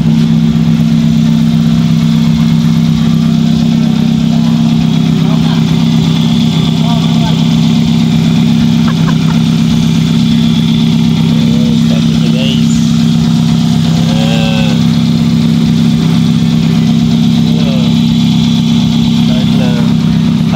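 A car engine idles steadily after a fuel pump repair, a loud continuous low hum with a muffler note running throughout, while people talk nearby.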